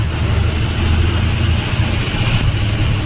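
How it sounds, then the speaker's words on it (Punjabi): A tractor engine rumbles along a road, a steady low chugging drone that holds at moderate volume without clear rise or fall. "ਆ ਵੀ ਟਰੈਕਟਰ ਇਹਨਾਂ ਦਾ ਦੂਜਾ ਜਾ ਰਿਹਾ ਅੱਗੇ"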